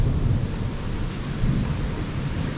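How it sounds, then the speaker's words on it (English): Low, continuous rumbling thunder rolls through a storm, with steady rain hissing underneath and no one speaking. "Thunder."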